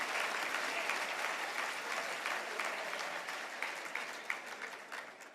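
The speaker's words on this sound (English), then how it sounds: "a big round of applause" A crowd at an annual Louisiana business luncheon gives a big round of applause, dense clapping that holds steady then slowly thins and fades toward the end.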